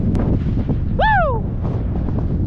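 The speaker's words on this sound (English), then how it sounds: "The wind's blowing hard." Strong wind roars steadily across an outdoor farm setting where a heifer is being loaded onto a trailer, with constant loud buffeting throughout and a brief animal call rising in the middle.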